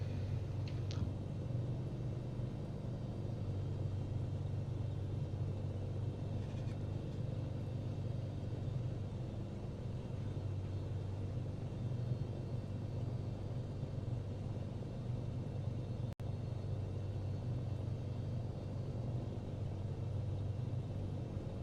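A Cirrus SR22 piston engine taxiing for departure at Milford Sound, New Zealand, in Microsoft Flight Simulator 2024 makes a steady, close, low droning rumble that holds unchanged throughout with no voices.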